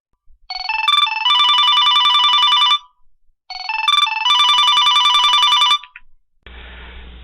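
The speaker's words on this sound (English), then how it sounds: "we should receive a phone call" Telephone ringing with an incoming automated IVR campaign call, two loud electronic double-burst rings separated by a short pause, clear and close, followed by a brief noisy line connection.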